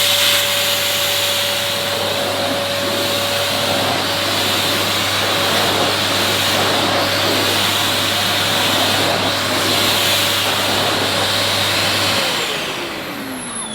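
A vacuum cleaner runs steadily on new carpet with its suction turned down slightly, a continuous loud whirring roar with a faint steady whine that stops near the end.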